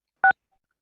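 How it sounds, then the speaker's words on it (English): A single short keypad tone burst from a phone dialing *6 to unmute on a city council meeting call line, clean and isolated against silence. "press *6 to unmute your phone"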